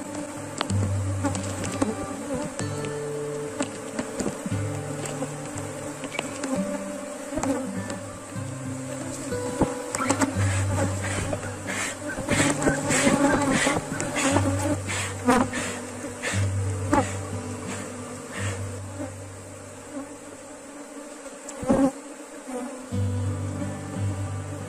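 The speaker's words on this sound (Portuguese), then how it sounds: "ajeitar aqui o outro enxame" A honeybee swarm drones at the hive in an apiary while a colony is split, a steady close hum with layered pitches and occasional sharper buzzes of single bees passing near, no speech.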